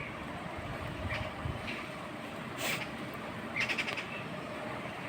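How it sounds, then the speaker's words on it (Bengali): Faint bird calls come through a soft outdoor background hum, with a few short chirps standing out. "পাখিদের আওয়াজ শুনতেই পাচ্ছি"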